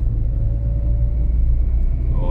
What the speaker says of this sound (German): Oh, da kommt der Turbo.